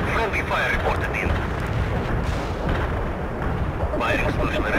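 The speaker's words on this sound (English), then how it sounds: "Artillery strike is inbound" Artillery strike explosions from the video game World in Conflict, a dense barrage of booming blasts and gunfire that stays loud and continuous throughout, with radio-style voices talking over the battle.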